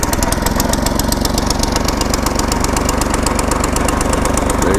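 A pull-started lawn mower engine runs loud and close with a steady, rapid chugging rhythm throughout, with no voices.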